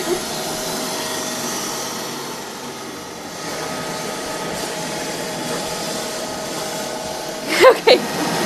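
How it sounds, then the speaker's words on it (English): An app-controlled vacuum cleaner runs indoors while picking up dirt, a steady whirring drone throughout, with a couple of brief sharp louder bursts near the end. "Let's clean up your dirt, Maddie."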